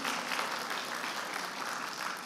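A congregation applauds during a church service, with many hands clapping in an even, continuous burst at moderate volume and no speech.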